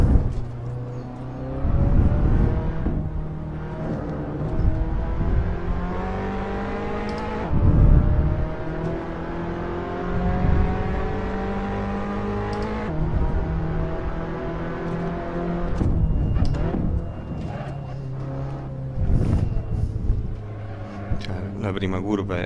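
Racing car engine in Assetto Corsa revving and shifting through gears, pitch climbing and dropping repeatedly over a steady drone, with someone talking throughout.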